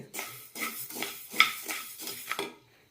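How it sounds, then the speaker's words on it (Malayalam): Coriander seeds dry-roasting in a pan give a series of rhythmic scraping, rattling stirs against the metal, about eight strokes in quick succession, fairly quiet and close. "ഇനി ഒരു കപ്പ് മല്ലി കൂടി വറുത്തെടുക്കാം"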